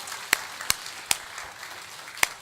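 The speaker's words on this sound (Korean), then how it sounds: "박수로 할렐루야, 할렐루야." Church congregation clapping during a worship service, a few sharp, separate handclaps spaced irregularly over a quiet background.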